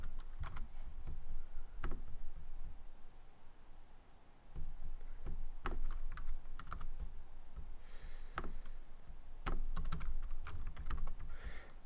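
Typing an address on a computer keyboard, with a steady run of soft close key clicks and a few louder taps over low background hum, no talk.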